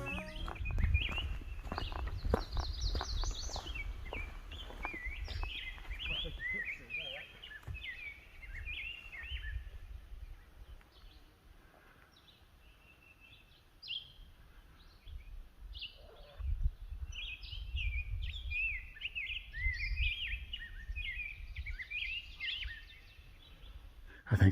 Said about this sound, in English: This beautiful meadow, and this bird is just singing his heart out.